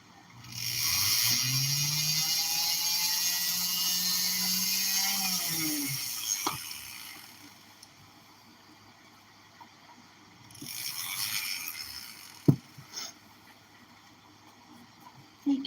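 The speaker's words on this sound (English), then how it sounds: "I'm just going to have to hold it in place to drill." A Dremel rotary tool drills into metal for a flush prong diamond necklace setting, a loud high whine that winds up, runs steadily, then winds down, followed by a quieter second burst and small clicks.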